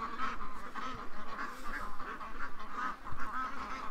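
A flock of ducks being herded in for the night, giving a steady run of close, overlapping quacks and nasal honks in a continuous rhythmic chorus.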